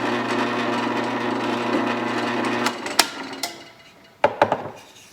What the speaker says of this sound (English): And I've drilled a hole.